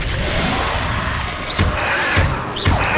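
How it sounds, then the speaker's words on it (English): Confringo blasting spell fired in the video game Hogwarts Legacy, a rumbling roar punctuated by two or three sharp whooshing impacts with rising tonal sweeps, fairly loud and close. "Confringo."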